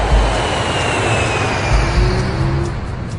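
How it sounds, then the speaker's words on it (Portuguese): Jet aircraft taking off and landing near Heathrow, heard as a steady, broad engine roar with a faint high whine, continuous and moderately distant, with no voices. "os moradores do bairro vizinho de Hounslow estão acostumados ao som dos jatos decolando e pousando"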